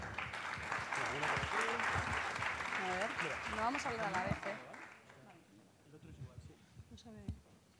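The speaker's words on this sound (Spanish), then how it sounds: "Un fuerte aplauso para ellas." An audience at a talk applauds the speakers, with dense clapping for about four seconds that fades out while voices murmur through it and afterwards.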